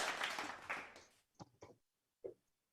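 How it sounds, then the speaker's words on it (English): Audience applause welcoming a student speaker at a leadership conference closing session, a dense burst of clapping for about a second that thins into a few scattered last claps and then fades out. "Let us welcome Ms. Raijeli Kolati with a warm round of applause."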